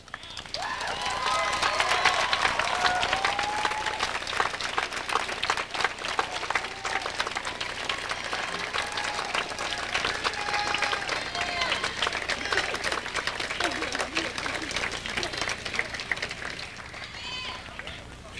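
Graduates at a 1992 high school commencement give teachers and staff a long, loud round of applause, dense clapping filling the hall steadily before tapering slightly at the end.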